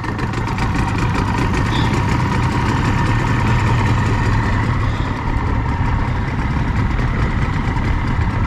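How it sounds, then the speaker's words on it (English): A boat engine on a windy ocean trip runs at a steady idle, a loud continuous rumble mixed with wind and water noise and no talking. "Let me just start the engine."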